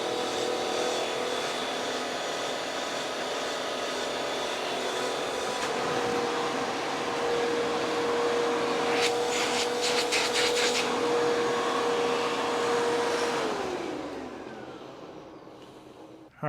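A Hoover WindTunnel 2 U8351 900 upright vacuum cleaner motor runs steadily with a broad droning whir, holding a constant pitch before winding down and trailing off near the end.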